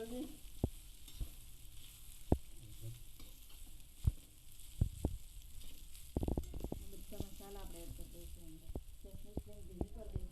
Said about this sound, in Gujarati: ભાત અંદર એડ કરી દઈશું. અને પછી ભાતને પણ હલાવી દઈશું.